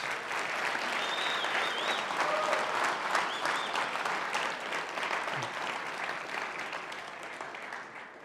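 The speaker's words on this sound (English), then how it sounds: "If we could just give them a big round of applause" A big round of applause for the event coordinators fills a conference hall at the close of a keynote, a dense steady wash of many hands clapping, moderately distant, slowly fading toward the end.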